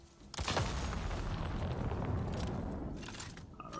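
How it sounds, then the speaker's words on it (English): Gunfire in Avatar Frontiers of Pandora, a loud dense burst of rapid shots and booming impacts that starts abruptly and rumbles on for several seconds. "that was just a small little area gunfire"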